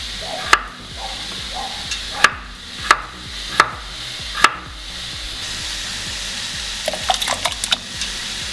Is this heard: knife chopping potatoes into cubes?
yes